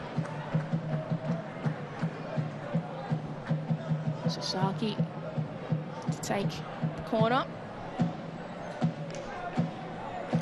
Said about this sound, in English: You can hear the noise from the Sydney FC fans really getting involved in this game, trying to cheer their side on.